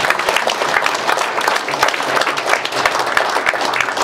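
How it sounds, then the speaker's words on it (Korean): Sustained audience applause at a foreign-affairs and security forum's closing, dense steady clapping from a crowd throughout, fairly loud, with no speech. "그런 의미에서 우리 박수 한 번 더 한번 해주세요"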